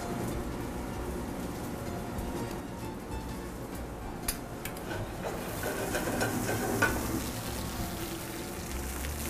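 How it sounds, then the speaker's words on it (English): Butter and cauliflower sizzling in a pan while being stirred, a steady frying hiss with soft scraping and a few small clicks toward the end. "Just stir it on."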